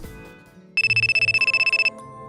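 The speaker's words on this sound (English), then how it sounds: "It's a call from Reina." Electronic phone ringtone for an incoming call, a rapid run of identical bright pulsing beeps lasting about a second, loud and close, rising sharply over a quiet room background.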